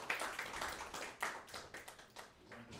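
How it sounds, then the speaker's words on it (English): A small audience gives a brief round of applause for Darius at a cooperative's product launch event, with scattered, uneven claps fading over a few seconds. "Ladies and gentlemen, another round of applause for Darius."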